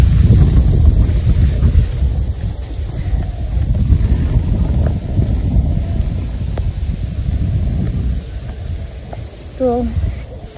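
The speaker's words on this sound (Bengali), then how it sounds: "বাতাস ছাড়ছে।" Strong wind gusting outdoors ahead of rain, a heavy low roar buffeting the microphone in uneven surges that continue throughout, with a faint voice briefly audible near the end.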